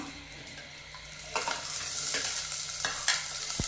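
Sliced onion fries in hot oil with mustard seeds, fenugreek and green chili, giving a steady close sizzle. A few sharp stirring scrapes and clinks of a utensil cut through it.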